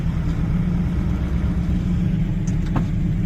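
Old crusty crew cab truck rolling across a backyard toward a garage, a steady low engine rumble held close and constant, with a couple of faint knocks near the end.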